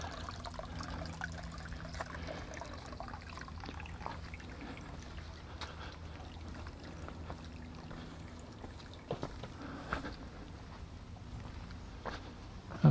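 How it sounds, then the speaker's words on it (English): The Shetucket waterfall, running at low flow during a drought, gives a faint, steady trickle and splash of water heard from nearby, with occasional footsteps and small knocks. "That's the Shetucket waterfall right there."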